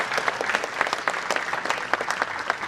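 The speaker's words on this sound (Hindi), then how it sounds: "यहाँ पर मैं निवेदन करूंगा महामहिम राज्यपाल जी से चित्र अनावरण के लिए जोरदार तालियों से" Audience at a summit ceremony clapping loudly for a governor's portrait unveiling, dense rhythmic applause from a nearby crowd throughout, with sharp individual claps popping out.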